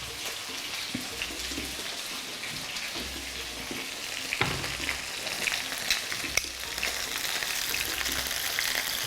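Oil sizzles steadily in a pan while food fries for a garlic soup, a dense continuous crackle with occasional sharper pops and faint stirring or clinking. It is moderately loud and close, with no talking.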